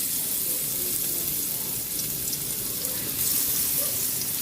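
Ginger and garlic sizzling in hot oil in a pan for sweet and sour fish, a dense continuous loud frying hiss with light stirring, no talk.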